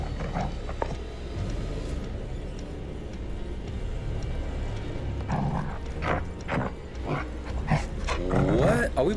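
Dog barking and growling in the horror game The Dark Pictures Anthology: The Devil In Me, low snarls and a few sharp barks under a murky, mechanical background.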